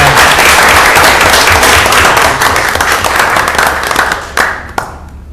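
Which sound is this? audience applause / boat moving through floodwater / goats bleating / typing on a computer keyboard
audience applause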